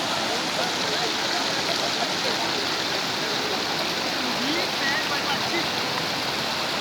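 Flood water released from Hirakud pours down the Kusabhadra River in a constant broad rushing roar, steady and fairly close, with faint voices beneath.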